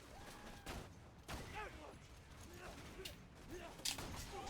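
Gunfire from the Twister weapon in a video game, a dense run of sharp shots and impacts mixed with game effects, loud and close, with a voice talking over parts of it.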